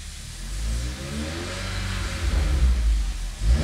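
A Volkswagen Golf GTI engine hums low and steady, then rises smoothly in gentle acceleration, swelling slightly toward the end with no voices.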